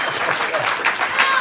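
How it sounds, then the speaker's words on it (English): Steady applause from a stand-up comedy showcase audience, a dense wash of clapping that holds evenly for a moment with a few voices mixed in. "Give them a round of applause"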